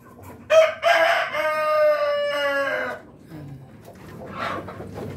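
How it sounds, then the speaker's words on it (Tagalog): An eight-month-old Rhode Island Red rooster crows once, loud and close, with a long drawn-out call lasting about two and a half seconds, followed by softer clucking and farmyard noise. "Isang rooster natin."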